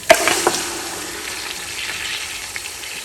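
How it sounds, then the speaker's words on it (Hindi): Meat sizzling and frying in a pan with ginger, garlic and spices for Peshawari namkeen gosht, a loud close hiss with a couple of stirring knocks at the start, no talking. "हमने गोश्त को भी फ्राई करना है अच्छे से मसाले में"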